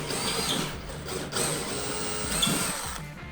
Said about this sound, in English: go ahead and pre-drill in all of those spots